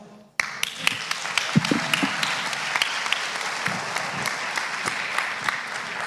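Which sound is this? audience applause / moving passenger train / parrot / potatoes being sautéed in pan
audience applause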